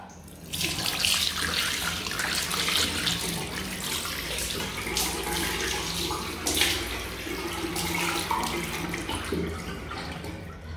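A bathroom tap runs steadily into a sink or bucket as plastic jugs are washed, a continuous close splashing rush of water with occasional louder splashes and knocks, no talking.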